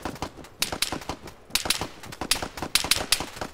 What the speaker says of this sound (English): He's shooting back at that building like there's somebody still there, but there's not.